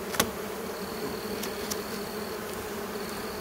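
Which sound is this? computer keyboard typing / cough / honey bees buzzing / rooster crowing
honey bees buzzing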